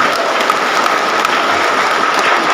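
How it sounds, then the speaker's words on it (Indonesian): Sustained applause from a large crowd of IKS-PI members welcoming a guest in Kefa, Timor, NTT, a dense steady clapping that stays loud and even throughout with no voices standing out. "Tepuk tangan untuk semuanya."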